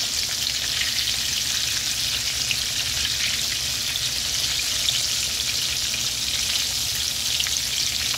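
Fish fries in hot oil outdoors on a homestead, a loud, dense and even sizzle that carries on without a break for the whole stretch.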